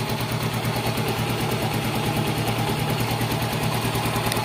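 A Yamaha Mio M3 scooter engine, hard to start, running steadily close by at a fast, throbbing, rattly idle under throttle for the whole stretch, with no voices.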